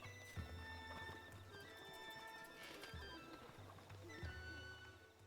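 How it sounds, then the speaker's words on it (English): A horse in the video game The Legend of Zelda: Breath of the Wild clip-clops with steady hoofbeats and whinnies, set against a faint watery ambience and game music, with no voices. "You guys watch my horse."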